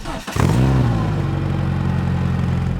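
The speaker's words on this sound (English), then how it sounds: "Cold start." A Renault Clio 172 engine cranks briefly on a cold start, then fires and catches with a loud roar that settles into a steady, rumbling idle nearby.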